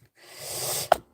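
A single sharp sneeze bursts out near the end after a brief breathy inhale, close and fairly loud, then silence.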